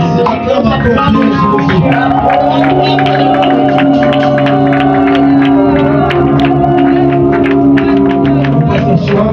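A church-style audience cheers and acclaims together, a loud sustained crowd roar of shouts, whoops and sung cries blending into a continuous wall of voices, with sharp claps or shouts scattered through it.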